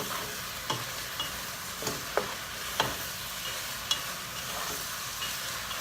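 A spoon stirs a chili mixture with undrained, greasy browned meat in a pot, scraping in soft irregular strokes over a steady low sizzle, with a few sharper clicks along the way and no voices.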